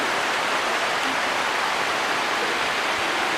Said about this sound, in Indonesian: hujan keras lagi